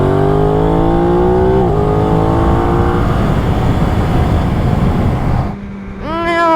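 An Aprilia RS660 sport motorcycle revs hard and accelerates past a tractor, its engine note climbing through the gears with a shift, then dropping away as wind noise fades and the revs rise again near the end.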